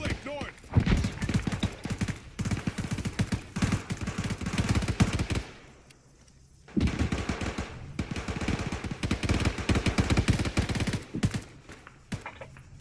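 Dense bursts of automatic and single-shot gunfire from an Arma 3 firefight crackle almost nonstop, loud and close, pausing briefly near the middle before the shooting resumes just as heavily.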